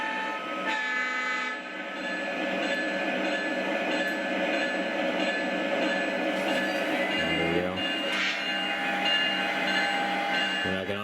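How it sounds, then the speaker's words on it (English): A Lionel model train controlled with TMCC runs on its track, giving a steady electric motor whine with tonal harmonics, a brief low horn-like blast and some clattering near the end. "we can go ahead and pull our train out here."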